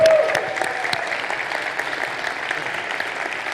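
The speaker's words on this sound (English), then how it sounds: "A big applause" Audience applause fills a Bitcoin conference hall in El Salvador, a steady wash of many hands clapping that holds at an even level throughout, with a brief cheer near the start.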